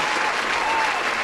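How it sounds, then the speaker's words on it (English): Short burst of steady, dense clapping from several people, loud and close, lasting just over a second with no talk over it. "Yo, now we gotta really clap it up."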